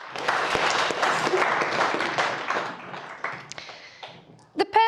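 Wedding guests break into sustained applause that fades after a few seconds, a dense spread of clapping with some crowd murmur. A few sharp taps and a brief bright ring follow at the end.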